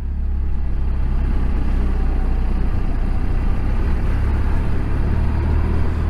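A motorcycle rolls slowly down a rough Cali Moto trail route near Wells, its engine a loud, steady low drone that stays even throughout, with no speech.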